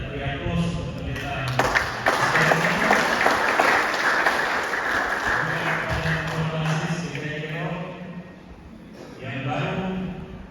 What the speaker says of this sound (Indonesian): Kita beri aplaus untuk pendeta